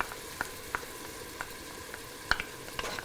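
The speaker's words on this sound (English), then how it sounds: "Now just let those tomatoes saute for about 5 to 7 minutes again till they melt." Chopped tomatoes and cilantro sauté quietly in a pan for a fusion Indian ground beef dish with peas, a soft continuous sizzle punctuated by a few light stirring clicks, with no talking.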